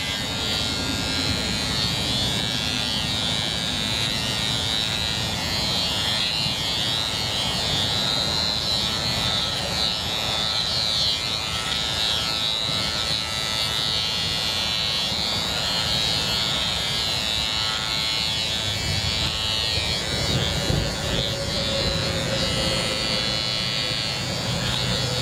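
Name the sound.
oneisall cordless dog grooming trimmer running at highest power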